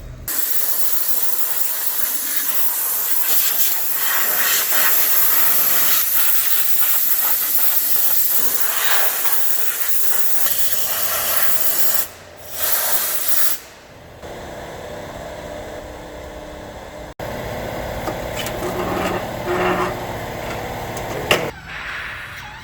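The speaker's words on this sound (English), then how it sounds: "Now we're gonna spray out the radiator" A loud, steady hiss of pressurized water spraying onto a Yanmar YT tractor radiator continues for a long stretch, briefly cutting out twice before resuming with shifting intensity.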